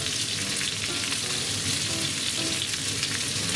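Spicy cheese chicken pieces sizzle in a covered pan, a constant loud frying hiss and crackle with no pauses and no voices.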